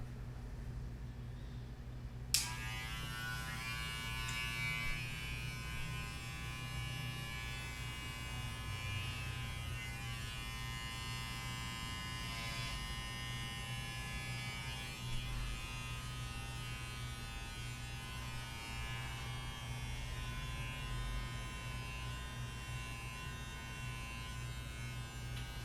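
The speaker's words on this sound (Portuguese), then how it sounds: "Essa parte eu gosto sempre de fazer com máquina, na mão livre mesmo." An electric hair clipper switches on with a click and then buzzes steadily and closely, trimming a long beard freehand, a constant mechanical hum with slight shifts as it moves through the hair.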